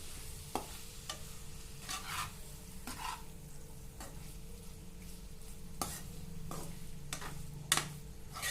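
Pasta being stirred in a pan, with a steady low sizzle beneath a series of sharp utensil scrapes and knocks spaced irregularly through the stretch, moderately close and fairly quiet.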